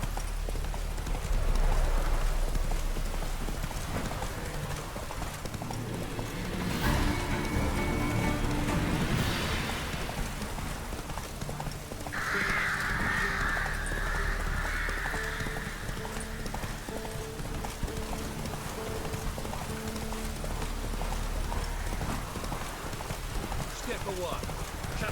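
Horse hoofbeats from The Witcher 3 video game, a steady clip-clop running through the whole stretch, fairly close and loud, with a brief burst of other game noise partway through.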